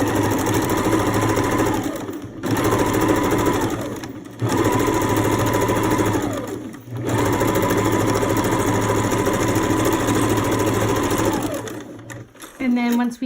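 A sewing machine stitches a fitted crib sheet seam in steady motorized bursts, running several seconds at a time with brief pauses between, close and loud.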